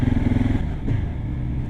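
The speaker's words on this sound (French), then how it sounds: "on essaye l'interfile au moment d'aller rendre la moto" A 2022 KTM 690 SMC R single-cylinder supermoto thrums as it threads between lanes of traffic, its engine pulsing loudly up close before easing to a lower, steadier note.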